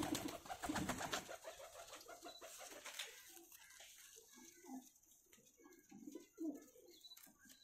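Breeder pigeons coo in soft repeated throaty calls from a loft, with a brief hissing, rushing noise at the start, at low overall volume.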